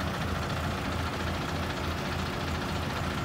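Two tractors arrive at a peanut field for spraying, with a dense, steady engine rumble and broad mechanical noise running unbroken and loud throughout, with no voices.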